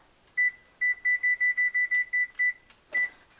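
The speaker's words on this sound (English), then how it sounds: "and then you set your timer for 15 minutes" A kitchen timer set for 15 minutes beeps in a fast run of about a dozen short, evenly spaced tones, with one more beep after a brief pause and a small clatter, close and clear in a quiet room.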